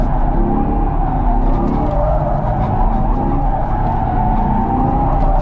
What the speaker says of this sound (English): Sustained drift happening